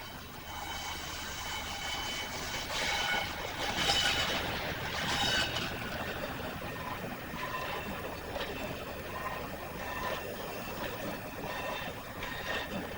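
Class 37 diesel locomotive 37154 arriving at Bristol Temple Meads station in 1999, giving a steady engine drone with whining tonal layers that swell and ease over the whole stretch, with no talking.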